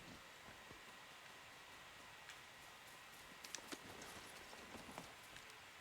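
The hooves of a summoned mount in Horizon Forbidden West trot faintly, with soft, scattered clopping over a hiss of rain-like background noise and no talking.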